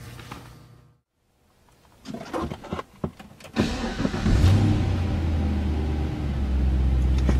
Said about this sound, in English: That's such a cool feeling when a motor's got so much torque it actually shifts in the housing as it starts